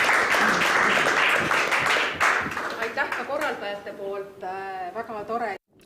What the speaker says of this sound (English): And I think we've earned a good applause for ourselves.